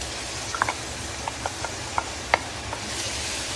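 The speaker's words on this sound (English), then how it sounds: "we got to keep stirring too so it doesn't burn the bottom of the pan" A spoon stirs a tomato and spice mixture in a pan over a low flame, giving scattered light scrapes and clicks against a soft, steady background hiss.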